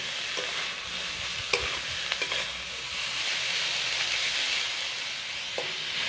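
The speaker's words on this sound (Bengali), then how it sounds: "একে একে সেই গাজর কুচি আর বাঁধাকপি কুচিগুলো দিয়ে দিচ্ছি। মশলার সঙ্গে এগুলোকে 2-1 মিনিট কষিয়ে নেব।" Chopped carrots and cabbage are sautéed with spices in a pan for vegetarian daliya khichuri, giving a continuous close sizzle under repeated scraping stirs and a few sharp clinks of the spoon against the pan.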